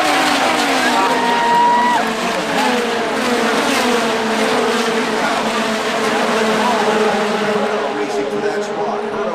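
Race cars circling the oval at the Indianapolis 500 on a rainy race weekend, a steady loud whine of many engines with overlapping pitch sweeps as cars pass, sustained throughout with crowd-like wash behind.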